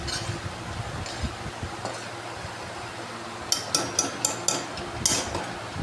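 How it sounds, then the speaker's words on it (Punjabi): A spoon stirs curry leaves in oil in a metal pan while making homemade hair oil for children, with soft scraping followed by a quick run of bright, close clinks. "ਹੁਣ ਆਪਾਂ ਇਹਨੂੰ ਹਿਲਾ ਦਿੰਦੇ ਹਾਂ"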